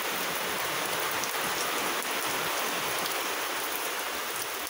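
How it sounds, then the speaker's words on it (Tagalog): Heavy typhoon rain pours down in a steady, dense hiss, drumming continuously on surfaces with no pauses. "Lakas ng ulan."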